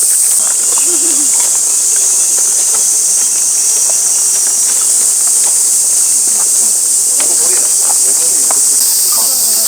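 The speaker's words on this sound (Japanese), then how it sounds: "たくさんのセミの音が聞こえるし" A dense, continuous high-pitched drone of many cicadas fills the grounds of a summer shrine, loud and unbroken throughout, with faint scattered footsteps and rustling beneath.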